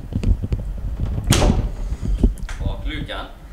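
A Toyota GT86 car door is opened: a sharp latch click and swing stand out clearly, close and fairly loud, with people talking around it before and after.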